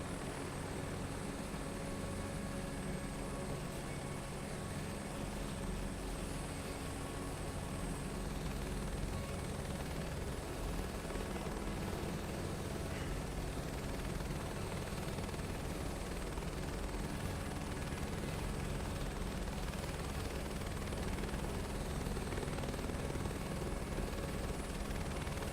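A helicopter in Microsoft Flight Simulator 2024 on PS5 Pro flies in to land, its rotor and engine producing a constant loud drone that holds steady for the whole stretch, with no speech.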